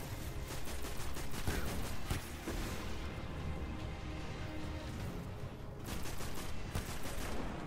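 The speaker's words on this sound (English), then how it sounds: "Just start firing at me." Gunfire rattles in Destiny: Rise of Iron as loud bursts of rapid shots crackle one after another. Brief lulls break the firing before it picks up again near the end.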